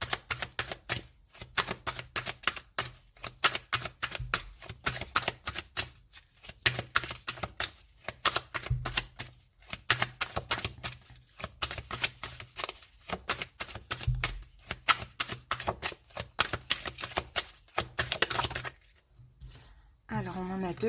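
Symbolon cards being shuffled and handled in a rapid, continuous flurry of crisp flicks and snaps, close and fairly loud, pausing briefly near the end.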